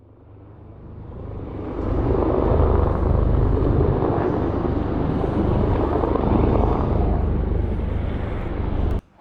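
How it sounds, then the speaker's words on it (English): State police helicopters pass overhead, a loud, steady low rumble that swells in over the first two seconds and holds before cutting off near the end. "I hear more state police choppers now."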